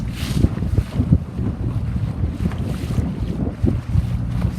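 Steady wind rushes across a C420 sailboat racing in a regatta, a gust of about 7 or 8 knots, heard as a continuous low, buffeting roar against the microphone with faint water movement beneath.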